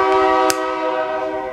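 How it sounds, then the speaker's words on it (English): A passing train sounds its horn in a loud, sustained chord of layered tones, near and dominant, with a brief louder burst early on over the rumble of the moving train. "The noise of the train."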